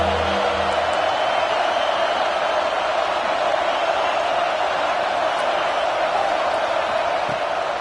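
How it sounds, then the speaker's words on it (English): A football stadium crowd roars steadily on a third down in an Arkansas game, a dense, continuous wall of cheering and whooping with no breaks. "Big 3rd down as the crowd gets behind this defense."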